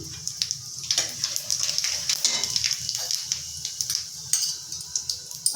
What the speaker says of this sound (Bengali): ওই তেলে আমি তেজপাতা দিয়ে দিচ্ছি জিরে দিয়ে দিচ্ছি